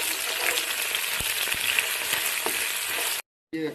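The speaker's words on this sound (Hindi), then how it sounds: "ये मैंने ज़ीरा डाल दिया इसके अंदर और हल्का सा ये लाइट ब्राउन होगा" Onion and cumin frying in a pan for a keema filling give a steady, loud broadband sizzle with a few soft stirring knocks, cut by a brief silence near the end.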